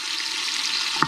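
Pancetta, onions and garlic fry in a pot with a steady broadband sizzle throughout, close and fairly loud, ending in a brief clink or scrape near the close.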